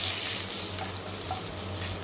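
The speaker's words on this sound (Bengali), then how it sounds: "এখন তেলের মধ্যে এলাচ, দারচিনি আর তেজপাতা দিয়ে দিলাম" Cardamom, cinnamon and bay leaf sizzle in hot oil, a soft, steady crackle with a low background hum and a brief faint pop near the end.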